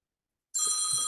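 Telephone ringing for an incoming call during a public finance committee meeting, a bright electronic bell that starts abruptly after silence and continues steadily, loud and close.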